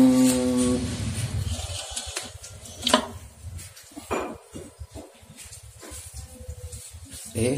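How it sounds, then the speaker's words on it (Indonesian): A spoon clinks and scrapes in a bowl while margarine is stirred into sweet bread dough, giving irregular close knocks and a few sharper clatters. "Oke, sekarang kita aduk teman-teman"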